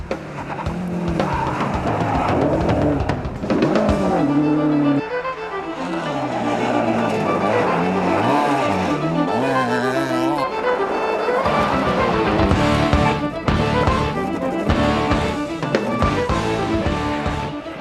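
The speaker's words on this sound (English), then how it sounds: "Davy Greer giving his now right-hand drive Celica a shakedown since he's completely refurbished it" A refurbished right-hand drive Toyota Celica rally car on a shakedown run, its engine roaring loud and close throughout, with revs repeatedly climbing and dropping through the gears and brief bursts that may be tyre scrabble.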